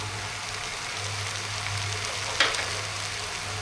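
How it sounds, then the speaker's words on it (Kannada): Green peas pudina rice with lemon juice is stirred in a hot pan, giving a steady close sizzle with one brief scrape of the spoon. "ಈಗ ಇದನ್ನು ಒಮ್ಮೆ ಚೆನ್ನಾಗಿ ಹೀಗೆ ಮಿಕ್ಸ್ ಮಾಡಬೇಕು"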